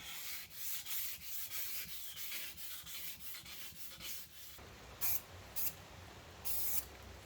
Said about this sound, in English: You spray a light mist and then sand it all off